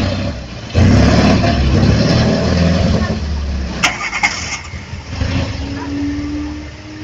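A Gnome-Rhône AX2 engine cranks and catches, then idles and pulls away with a rough mid-pitched rumble, loud and close, with people's voices calling over it.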